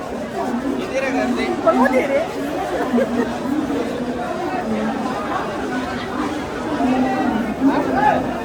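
Crowd chatter on a busy Mumbai railway platform, a constant dense babble of many overlapping voices that stays loud and unbroken throughout, with nearby talk mixed into the hubbub.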